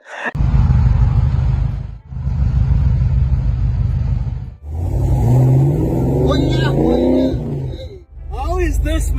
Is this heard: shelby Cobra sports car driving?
yes